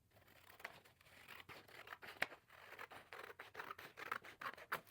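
Scissors trim the top edge of a paper sewing pattern along a dotted line, a quiet, close run of repeated crisp snips and papery scratches with no talking.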